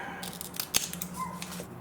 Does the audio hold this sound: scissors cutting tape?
yes